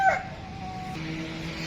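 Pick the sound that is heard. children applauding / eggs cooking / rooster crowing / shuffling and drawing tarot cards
rooster crowing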